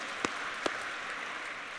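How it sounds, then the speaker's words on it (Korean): A church congregation claps for members from San Diego, a soft diffuse patter of applause with two sharper knocks standing out early on. "샌디에고에서 오시는 분 박수 보냅니다"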